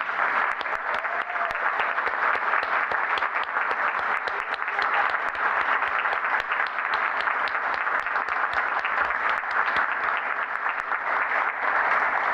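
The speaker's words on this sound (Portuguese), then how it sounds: "eu peço uma salva de palmas para essas pessoas" Sustained audience applause fills a solemn ceremony hall marking a radio network's 25th anniversary, dense steady clapping from a large crowd continuing for over twelve seconds without pause.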